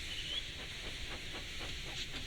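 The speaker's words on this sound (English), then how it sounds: "So they lit his fire, made lots of steam, and Edward puffed away." An HO scale model steam locomotive lets out a soft hiss of steam with a quick run of faint rhythmic puffs, heard up close and quiet with no talking.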